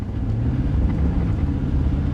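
A V8 car's wheels spin without grip on snow, giving a loud, steady low engine drone that holds throughout without letup, and no one speaks over it.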